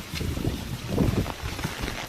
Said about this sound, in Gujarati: પવન બહુ છે મિત્રો, જોઈ શકો છો.